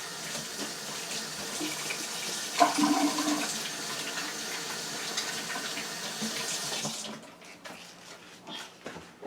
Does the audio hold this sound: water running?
yes